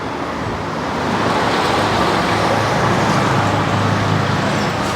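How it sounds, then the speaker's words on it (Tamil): A Yamaha two-stroke motorcycle fitted with a DTW factory racing expansion chamber idles and runs steadily after starting, a loud, dense, continuous engine roar close by with no talk over it. "வண்டி இதுக்கு வண்டி ஸ்டார்ட் பண்ணி காட்டுறேன்"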